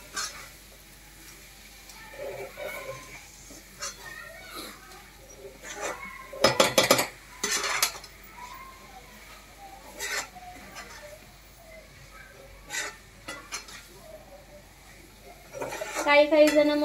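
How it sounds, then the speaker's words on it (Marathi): Mushroom and pea masala is stirred in a pan, with scattered scrapes and clinks of a utensil against metal, a louder clattering burst around 6–8 seconds and a faint sizzle, while someone talks throughout. "मशरूम टाकून द्यायचे आणि आता आपण हे सगळं छानपैकी मिक्स करून घेऊया।"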